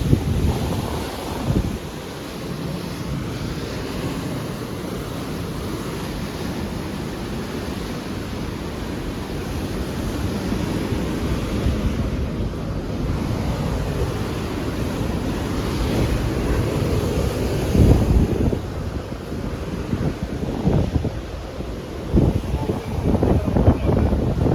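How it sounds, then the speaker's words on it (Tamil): Strong sea waves surge against beach rocks, a continuous loud roar of surf with heavy wind buffeting the microphone and occasional louder crashes throughout. "பாறை மேலே வந்து வர லெவலுக்கு அலை"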